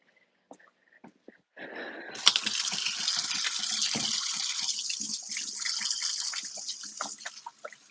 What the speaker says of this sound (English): You all will hear me wash my hands.